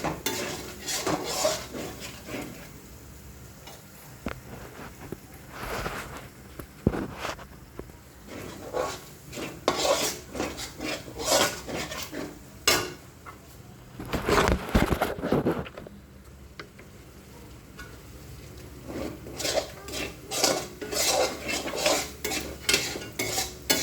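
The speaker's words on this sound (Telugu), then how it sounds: "ఇప్పుడు చికెన్ ఫ్రై చేస్తున్నాం." Chicken fries in a pan at home while a utensil stirs and scrapes it, giving irregular clatters and scraping bursts over a soft, low sizzle, with no voices.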